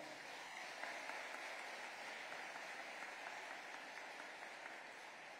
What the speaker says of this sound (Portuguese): Pode aplaudir quem está tomando posse já.